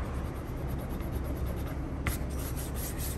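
Microfiber cloth rubbing across a plastic surface to wipe away eraser marks, a steady soft scuffing with one brief sharper swipe near the end, close and alone.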